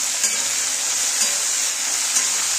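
Taro stems with salt, turmeric and chili powder being stirred as they fry in a pan, a loud, even hiss of sizzling oil with faint soft scrapes, brief and close, no talking.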